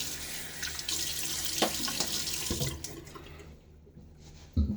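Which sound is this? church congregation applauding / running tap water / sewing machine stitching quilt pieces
running tap water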